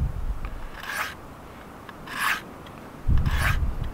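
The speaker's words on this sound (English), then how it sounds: "You just lay your blade flat against that ramp" A bushcraft knife blade is drawn flat along the ramp of a small pocket sharpening tool, giving three separate raspy scraping strokes about a second apart, close and clear with no talk.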